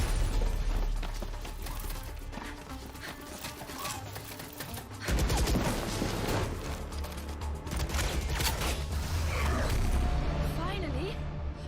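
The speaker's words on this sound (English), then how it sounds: "We're picking up gunfire." Rapid gunfire from the video game Valorant comes in dense bursts of sharp cracks, growing heavier midway and mixed with other game effects and voices.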